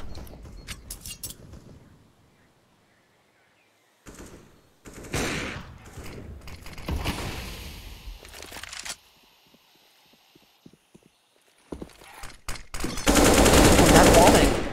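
Gunfire in the Counter-Strike map Inferno during a professional esports match comes in bursts of rapid shots and single cracks, separated by quiet gaps, ending in a long loud stretch of sustained fire.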